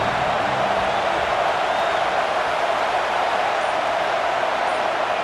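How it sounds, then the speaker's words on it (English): Stadium crowd in College Football 26 during a Notre Dame vs Auburn game, a steady loud roar of massed voices that holds evenly throughout with no breaks. "This crowd bringing an ear-splitting welcome to their visitors."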